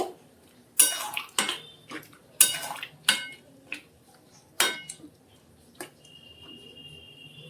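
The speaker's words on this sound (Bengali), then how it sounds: "নেড়ে নেব" A spoon stirs food in a metal pan in a home kitchen, making a run of sharp clinks and scrapes, about a dozen spaced knocks over a quiet background, with a faint ringing tone near the end.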